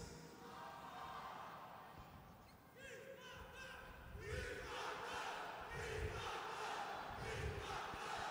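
A church congregation shouts together, rising from a steady crowd murmur into louder bursts of collective yelling in the second half, with voices mixed throughout.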